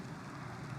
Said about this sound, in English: it's drizzling, it's freezing cold out here